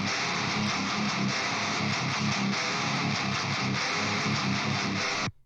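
Swedish death metal guitar through an HM2 pedal with the MIJ Japan mod into a Solidus Randy 250 amp, a dense, saw-toothed, heavily distorted riff chugging at constant loudness, played alone until it cuts off abruptly near the end.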